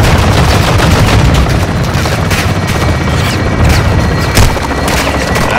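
Sustained gunfire with booming blasts rings out from the base of a tower in Call of Duty: Modern Warfare II, dense and loud throughout with a heavier burst near the end.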